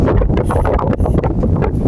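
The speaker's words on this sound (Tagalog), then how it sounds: "Lakas ng hangin mga kabayan." Strong wind buffets the microphone in loud, continuous gusts with low rumbling roar, no talking.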